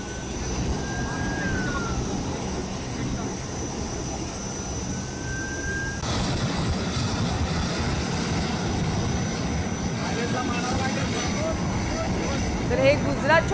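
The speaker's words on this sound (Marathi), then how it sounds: "गुजरातच्या एका एअरपोर्टवरनं हे विमान मुंबईकडे आलेलं आहे आणि मुंबई विमानतळावर लँडिंग करत असताना" An airliner arriving from an airport in Gujarat makes an emergency landing at Mumbai airport, a loud, steady broadband engine roar with a faint rising whine that grows fuller midway.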